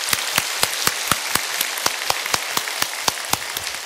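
Sharp, distinct hand claps in a steady, loose rhythm from a few people in a church congregation, fairly close and without voices.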